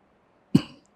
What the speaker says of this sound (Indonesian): Batukku mulai di luar kendali.